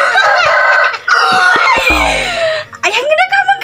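Chickens cluck and squawk close by in loud, choppy bursts, with voices talking among them.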